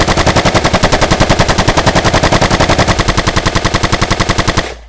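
Rapid automatic gunfire from gun-armed robot enemies in the action game Enslaved: Odyssey to the West, a loud, dense stream of evenly spaced shots lasting several seconds before cutting off.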